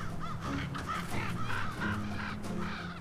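Ravens calling near a wolverine in a snowy far-north landscape during the polar night: a string of harsh, repeated caws, moderately close, with no voices.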